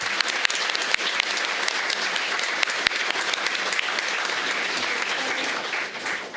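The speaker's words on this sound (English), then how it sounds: "Let's give all of our novice Teachers of the Year another round of applause." A board of education meeting crowd gives a round of applause for novice Teachers of the Year, loud, steady clapping with a few sharp individual claps standing out before it eases slightly at the end.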